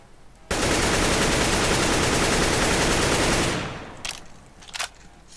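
Automatic rifle spray in the video game CS:GO: one loud, continuous burst lasting about three seconds, then a few faint clicks and clinks, alone with no talk.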